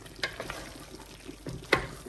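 Mutton biryani masala with garam masala cooking in a pan, a low sizzle and frying crackle with a few sharp scrapes and stirring clinks, close and fairly quiet, no talk.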